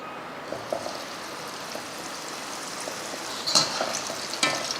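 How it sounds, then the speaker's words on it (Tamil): Steady sizzling of paneer frying in hot oil, with occasional louder crackles and pops toward the end, no voices. "இப்போ பன்னீர் வறுத்து எடுத்துடலாம் அதுக்கு எண்ணெய் ஊற்றுவோம்"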